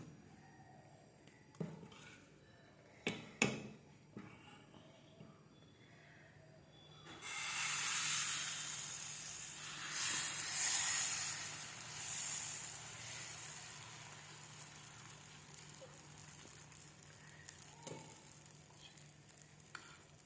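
After a few clicks and knocks, fermented mudakkathan keerai dosa batter hits a hot pan and breaks into a loud, broad sizzle that swells, then gradually eases into a softer hiss.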